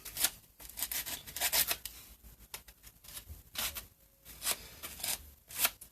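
Hand sanding up close: a steady series of dry, raspy back-and-forth strokes, fairly quiet, with brief pauses between passes and no voices.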